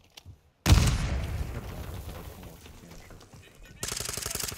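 Rapid automatic gunfire from Call of Duty Modern Warfare II plays loud and continuous for several seconds, with another burst at the end, no talk over it.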